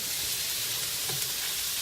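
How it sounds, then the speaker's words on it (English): Steady sizzling of carrots frying in a pan, a continuous crackling hiss at close range. "I've got carrots frying here"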